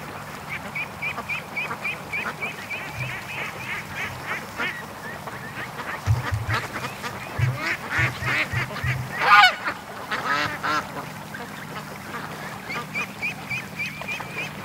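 A large flock of ducks gathered on a lake quack and honk in overlapping bursts, moderately distant and fairly soft, with a louder cluster of calls midway and a brief high squeal.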